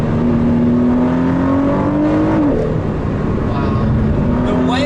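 Ford GT accelerating hard on a countryside road, a loud steady engine drone with a rising tone that dips briefly as it shifts and climbs again, heard from inside with a voice talking over it.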